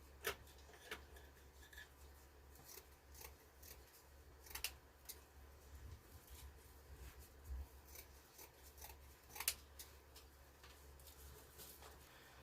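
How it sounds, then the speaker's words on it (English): Scissors snipping through plastic mesh to cut it into roughly six-inch pieces for a Christmas wreath, heard as quiet, scattered crisp snips and rustles spread across the stretch, with no talking. "I'm going to cut the mesh into about 6-inch pieces"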